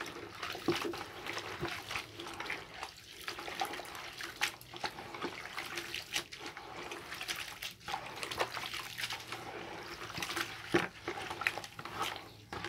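Water pours and splashes softly into a container while liquid fertilizer is being mixed, a faint, irregular trickling and sloshing that continues throughout.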